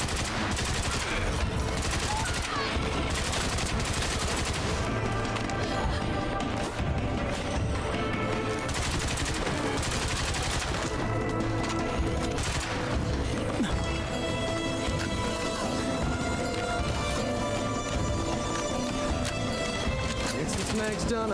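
Rapid gunfire as a magazine is emptied in the zombie survival game State of Decay 2, dense, continuous bursts of shots running the whole time over a busy game soundscape.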